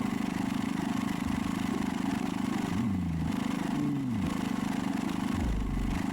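Steady car engine drone in Food Delivery Simulator traffic, a continuous mid-low hum with a couple of rising and falling pitch sweeps as vehicles pass, then a deeper rumble near the end.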